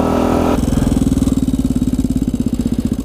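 Supermoto motorcycle engine pulling under load, a loud close throaty pulse of rapid firing beats that climbs steadily after a brief shift in tone.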